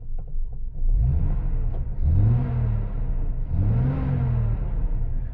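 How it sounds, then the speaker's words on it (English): A 1960 Austin Westminster A99's large six-cylinder engine cranks and catches, then revs up twice in rising and falling surges before settling into a loud, rumbling idle. "And the big old six-cylinder engine fires into life."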